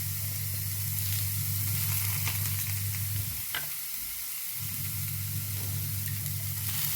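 Garlic, shallots and curry leaves fry in hot oil for a sambar tempering, giving a loud, continuous close sizzle with stirring scrapes and a brief dip midway, and no one speaks.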